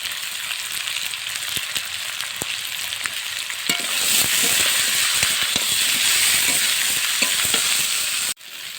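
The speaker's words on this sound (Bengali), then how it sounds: "এই গোল গোল করে কাটা রাখা পেঁয়াজটা দিয়ে দিলাম এবারে এক চামচ লঙ্কার গুঁড়ো দিলাম" Sliced onion and chili powder fry in a pan for a village-style eggplant and milk curry. The sizzle is loud and steady, swells partway through, then cuts off sharply near the end.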